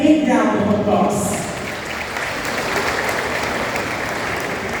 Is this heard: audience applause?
yes